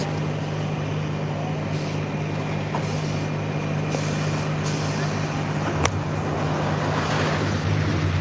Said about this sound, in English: There's another truck.